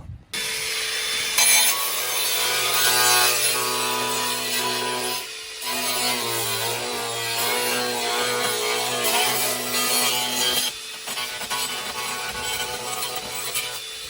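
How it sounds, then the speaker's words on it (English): Steady, loud grinding of fiberglass being cut out of the rear wheel arch of a classic Mk5 Ford Escort, a sustained whine with a short break midway, and no speech. "My dad continued to grind away at the rear arch just to get as much of that fiberglass out as possible"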